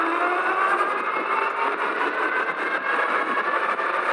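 A Super73 RX electric motorbike running a 60V battery accelerates with a steady, loud whir and rushing wind, continuous throughout with no pauses.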